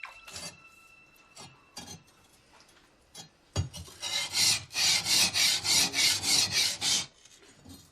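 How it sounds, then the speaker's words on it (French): A katana's steel blade gets its first polish, with several rhythmic rubbing strokes back and forth, loud and close, after a few scattered handling taps and scrapes. "Un premier polissage permet de faire apparaître le hamon, la ligne de trempage de la lame."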